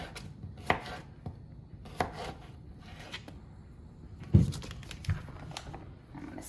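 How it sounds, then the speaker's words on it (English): A knife slices zucchini on a cutting board in a home kitchen, giving a handful of separate sharp chops spaced irregularly, with one heavier thunk near the end, close and clear over quiet room tone. "So we're just using our cutting board and our knife."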